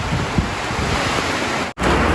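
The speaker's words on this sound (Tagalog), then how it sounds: "inabutan ng malakas na ulan." A steady, loud rush of wind and pouring rain roars continuously, with gusty buffeting on the microphone.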